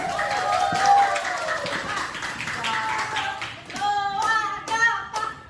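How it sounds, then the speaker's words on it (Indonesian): An Easter church audience claps for a performing group, scattered taps and hand claps mixed under a spoken voice and melodic tones, with clearer rhythmic clapping bursts toward the end. "Berikan aplaus."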